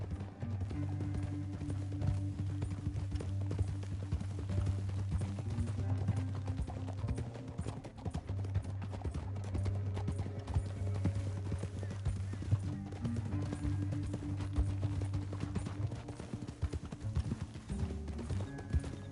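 Steady clip-clop of horse hooves at a gallop in the video game Red Dead Redemption 2, loud and continuous throughout, with a low rumbling bed and occasional faint voices underneath.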